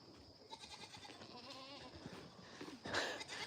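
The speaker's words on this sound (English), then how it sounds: "We got a goat in the chicken coop." A goat bleats inside a chicken coop, one wavering call in the middle amid quiet shuffling and rustle, followed by a sharp, louder clatter near the end.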